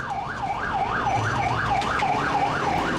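A fire engine siren wails in a rapid rising-and-falling cycle while responding to a fire in Munhyeon-dong, steady and fairly loud over low road rumble.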